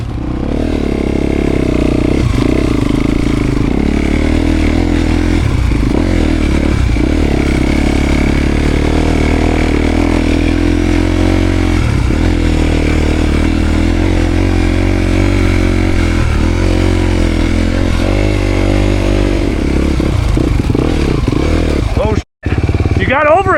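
A dirt bike ridden in first gear on a rough trail runs with a loud, continuous engine drone and clattering throughout, the revs rising and falling with rough terrain, and a brief dropout near the end.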